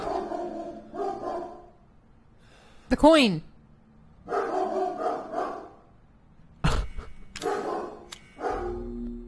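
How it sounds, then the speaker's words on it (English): A pet dog inside a home barks loudly in a few sharp, close bursts, with people talking between and over the barks. "We're just gonna let him stop barking for a minute, because he's being very loud."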